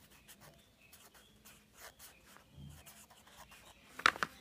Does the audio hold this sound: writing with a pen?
yes